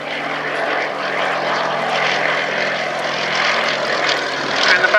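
A Westland Lysander propeller aircraft flying at an airshow, its engine drone and propeller buzz loud and sustained from start to finish, a broad steady roar with no breaks.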